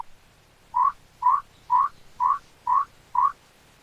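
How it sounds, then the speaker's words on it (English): A frog croaks six times in an even rhythm, each croak short and distinct, heard close over a faint background hum. "Frog croak croak."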